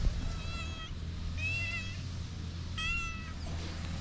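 Several friendly cats on Terceira Island meow close by in three distinct, drawn-out calls spaced about a second apart, with faint outdoor background noise beneath.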